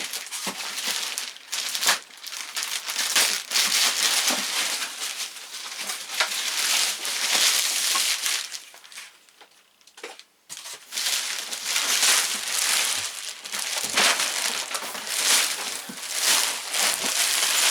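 Plastic packaging on a Super 7 Thundercats Ultimates Thundertank toy box being cut and torn open, with close, loud crinkling and crackling bursts running nearly continuously, broken by a brief lull midway.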